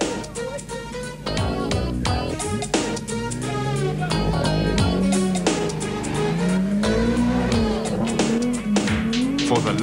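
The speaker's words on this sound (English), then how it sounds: "Curtis and Angus were still motoring steadily" Rally cars in the 1989 Swazi Sun 500 motoring along, a steady engine drone with rising and falling pitch as they pass, fairly loud under a busy mix of other sound throughout.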